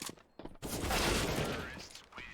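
Submachine guns and rifles fire in a Counter-Strike: Global Offensive esports match, a dense, loud burst of rapid gunfire after a few brief sharp shots, with a couple of shots trailing at the end.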